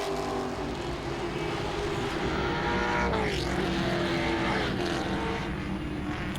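Grand Stock cars racing at Langley Speedway, a continuous loud engine roar from several cars whose pitch sweeps down as they pass by.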